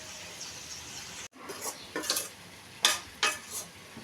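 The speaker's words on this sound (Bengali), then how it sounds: "এখন নেড়ে ছেড়ে আরেকটু কষিয়ে নিব।" Spiced tomato curry is being stirred and fried in a pan with a soft sizzle. After a brief pause, several distinct scraping strokes of the spoon follow one another close by, with no talking.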